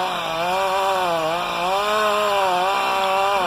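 A Husqvarna 45 chainsaw with an 18-inch bar cuts through a dead eucalyptus tree, the engine droning loud and close as its pitch bends up and down under the load.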